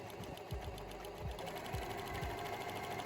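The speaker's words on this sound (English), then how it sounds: "So now we need to unfold the facing and overlock the bottom edge of the top." Overlocker serging the bottom edge of a corset blouse top, a steady close mechanical whir with a fast regular stitching rhythm running throughout, with no talk.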